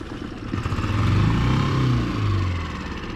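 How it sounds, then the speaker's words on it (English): A Tohatsu 6 HP outboard motor on an inflatable boat runs steadily after a year in basement storage, with a low, even engine drone throughout. "I expected that this engine will not start from the first time, but as I said, it started"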